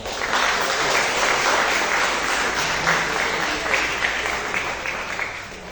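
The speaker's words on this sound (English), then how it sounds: "Please give yourselves another round of applause." A loud, sustained round of audience applause fills a storytelling competition awards ceremony for schools, dense clapping holding steady before easing slightly near the end.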